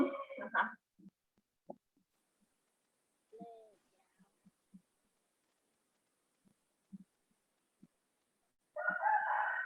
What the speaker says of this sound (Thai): ได้ยินเสียงไก่ขันไหม